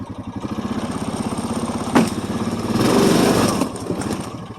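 A quad ATV fitted with a front push bar labours in 4-wheel drive through woods, its small engine chugging in a rapid, close, pulsing putter that swells briefly louder under load, with a sharp knock partway through.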